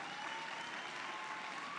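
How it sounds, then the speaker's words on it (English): Audience applause for awardees at a housing and economic development hall of fame ceremony, a steady, dense wash of clapping that holds evenly throughout without pause. "So one more round of applause to all of our awardees today."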